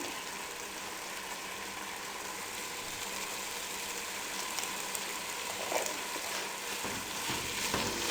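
Vegetables and chicken fry in a pan with garam masala, a continuous close sizzle with faint stirring scrapes running under it, even and unbroken throughout.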